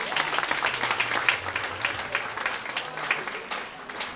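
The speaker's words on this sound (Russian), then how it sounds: "Накажите его, пожалуйста, аплодисменты" Warm audience applause at a concert hall event, a steady crowd of clapping hands that rises and dips slightly, with a low voice murmuring underneath partway through.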